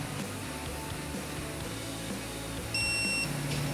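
A digital torque wrench gives a single steady electronic beep for about half a second near the end, clear and close, over a quiet background hum.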